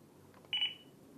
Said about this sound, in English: a beep sound was there, which means the device has been activated successfully